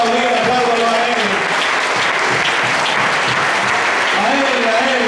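A church congregation at a Sunday school gathering in Aguas Blancas, Cesar, Colombia, applauds loudly and steadily throughout, a dense wash of clapping with a voice speaking over it.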